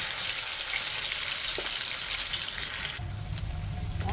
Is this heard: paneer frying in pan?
yes